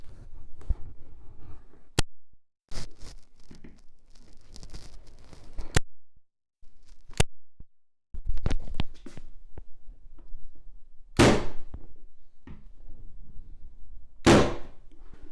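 A Titan second fix nail gun driving nails into wood: a series of sharp, close thwacks spaced irregularly, two of them especially loud and cracking, with quiet handling noise between shots.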